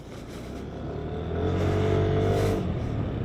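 A Yamaha Lexi 155 scooter engine starts and runs, rising into a steady buzzing idle with a slight rev that swells and then eases, heard close up with no talking.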